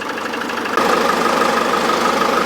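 A warmed-up vehicle engine idles steadily at close range, a continuous even hum with a slight step up in level under a second in, with no talking over it; the vehicle has an AdBlue pump fault, code P20E8.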